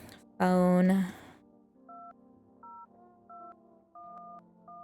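Phone dialing tones in a video game, a series of evenly spaced short beeps after a brief loud tone, clear and close with no talk.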